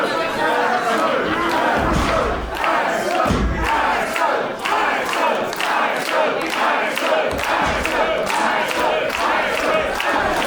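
Crowd at a Nordic Elite Wrestling event cheering and shouting in loud rhythmic bursts, with slams and chatter mixed in and a commentator talking over the noise.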